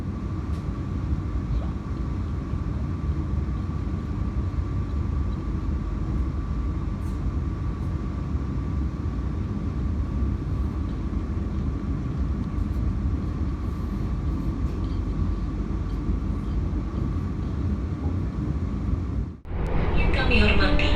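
Riding inside the Jaka Tingkir economy train approaching Purwosari station, a steady, loud rumble of wheels and carriage continues throughout, with a brief jolt and shift in the noise near the end.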